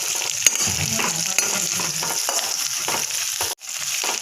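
Food sizzles and fries steadily in a home-kitchen pan, with soft stirring scrapes through a continuous crackle and one sharp dip in the noise near the end.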